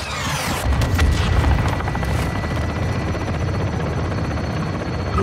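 In Call of Duty: Modern Warfare 2, a helicopter fires its guns on a marked target: a loud, steady rotor roar with heavy booming gunfire early on, then continuing engine drone.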